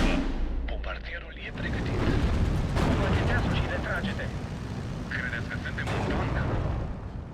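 Artillery shells a road in the war game Steel Division 2, with heavy rumbling booms and crackling explosions layered in a dense, continuous battle roar, with a voice talking over it.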